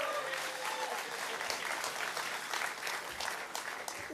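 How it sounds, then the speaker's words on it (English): Applause from a crowd at a community event for the Lulah Hills demolition at North DeKalb Mall, a dense, sustained wash of clapping with a few louder claps standing out. "That could be an applause, guys."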